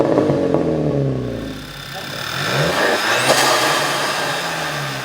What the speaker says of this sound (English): This is a very adult sounding exhaust.